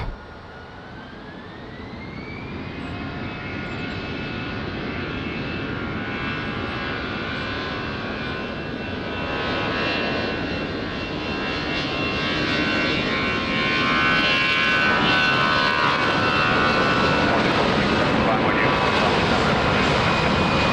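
A jet airliner takes off from runway 20 at Lisbon Airport, its engine roar building steadily and staying loud and close throughout, with a rising whine and broadband rumble.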